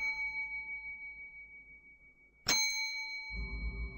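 In the pixel horror game Deep Sleep, a bell rings once with a sharp metallic strike, leaving a long, clear, ringing tone that sustains for seconds over a low rumble, alone without talk.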